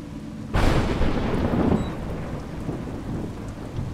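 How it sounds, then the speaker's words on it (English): Rain and thunder in the video game A Juggler's Tale: a loud thunderclap breaks in after a quiet start, then a steady wash of heavy rain with a rolling rumble that slowly fades, no voices. "It's raining."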